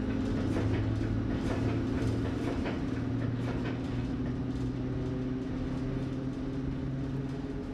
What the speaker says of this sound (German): Entsprechend gemütlich passiert der Zug den Bahnhof Lichtenberg.